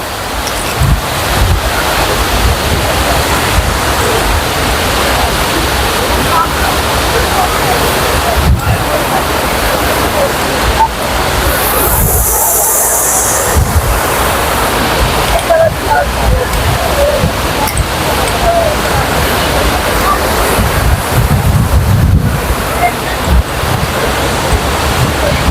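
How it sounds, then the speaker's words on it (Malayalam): A waterfall in a park in Lisbon pours with a loud, steady broadband rush, with wind buffeting the microphone and faint voices underneath. "അടിപൊളി വെള്ളച്ചാട്ടം. അതിന്റെ സൗണ്ട്സ് ഒക്കെ കേൾക്കുന്നുണ്ടെന്നാണ് ഞാൻ വിചാരിക്കുന്നത്"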